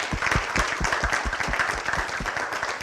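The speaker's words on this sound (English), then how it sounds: "I think that deserves a round of applause." Audience at a post-screening panel discussion applauds, a steady burst of many hands clapping at moderate distance throughout.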